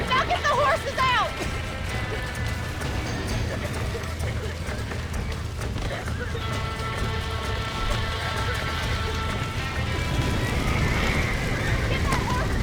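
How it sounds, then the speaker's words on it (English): Horses in the Red Dead Redemption video game whinny and gallop with clopping hooves under a continuous bed of game noise, while a voice shouts over the action. "Get that horse back! Get it moving! Back that dumb horse!"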